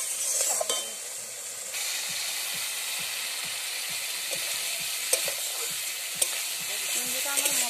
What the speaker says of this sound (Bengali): আমার মশলা ভাজা হয়ে গেছে